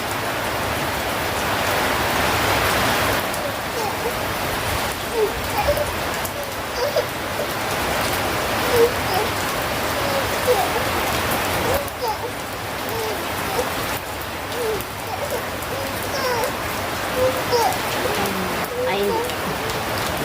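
First monsoon rain falls steadily in a continuous hiss of drops hitting surfaces, close and fairly loud throughout, with faint voices now and then underneath.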